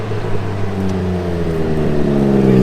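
Car engine fitted with a new aftermarket exhaust revving steadily, a loud close droning rumble with rising harmonic tones and no talk.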